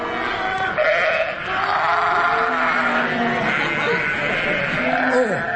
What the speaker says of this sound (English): I've never seen so many sheep.